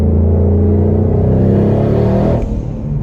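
A twin-turbo car fitted with an electric exhaust cutout accelerates hard on summer tires in winter, a loud, steady engine roar with wheel spin that holds close by for over two seconds, then drops away abruptly.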